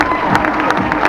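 Crowd applause and cheering at a zombie-themed water stunt show in a holiday park, a brief, steady wash of clapping and voices with a few sharper peaks.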